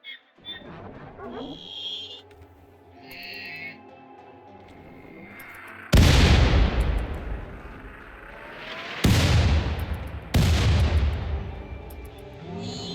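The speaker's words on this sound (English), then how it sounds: "They're really terrible mortars." Mortars fire in RimWorld with three heavy booming blasts, each a loud burst that rolls off over a few seconds, following quieter game tones and beeps.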